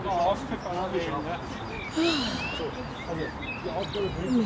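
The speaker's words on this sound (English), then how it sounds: "Wow, the birds are back." Birds chirp and tweet by the Donaukanal in Vienna on the first day of spring, scattered calls over steady city-walk background noise.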